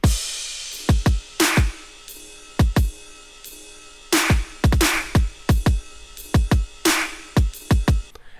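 Trap beat in halftime built in Ableton Live, with punchy kick drum hits and a snare landing on a slow halftime groove under a steady ride; crisp, close and alone.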